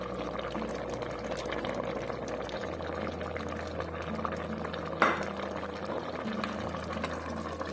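A thick salad mixture of eggplant, pepper, tomato, carrot, onion and garlic boils in a pot for canning, giving a steady, close bubbling and simmering hiss that runs the whole time without any talking.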